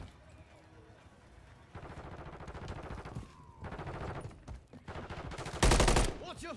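Gunfire in the video game Modern Warfare 3 crackles in repeated bursts and rapid volleys, with a louder, dense burst near the end, while a person talks over the action.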